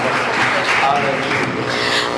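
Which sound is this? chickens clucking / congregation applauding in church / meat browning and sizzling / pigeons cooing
congregation applauding in church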